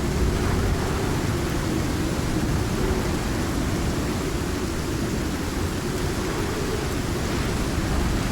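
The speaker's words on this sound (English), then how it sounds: "They're all taking shelter from the rain" Steady, dense rain pours in the survival video game Icarus, a constant even hiss filling the whole stretch with no speech and no clear thunder.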